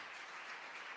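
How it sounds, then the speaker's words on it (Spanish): A church congregation applauds together in a steady, dense wash of clapping that fills the whole moment, with no voices standing out. "Fuerte ese aplauso al Señor."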